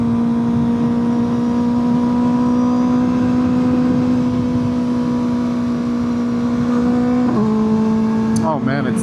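Kawasaki ZX6R sport bike cruising at dusk, a steady, loud engine drone with strong harmonic tones and wind rush, pitch shifting near the end as the rider changes speed.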